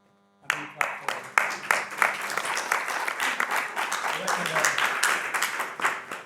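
Audience applause at a global policy launch on encephalitis, a roomful of hands clapping steadily after a brief silence, dense and sustained with sharp individual claps at the start.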